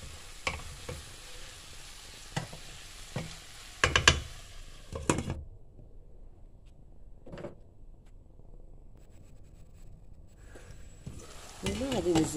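Chicken and onions fry in a pan while being stirred, with scraping spoon strokes and clattering bursts around the middle over a low sizzle, ending in louder stirring.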